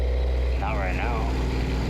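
A truck engine in American Truck Simulator, a newly installed aftermarket engine on a cattle hauler, drones steadily with a deep low rumble throughout, with a brief rising and falling whine over it as it revs and shifts.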